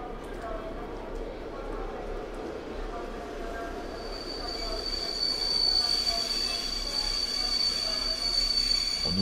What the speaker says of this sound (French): Je somnolais dans le métro quand un nouvel arrêt brusque s'est produit.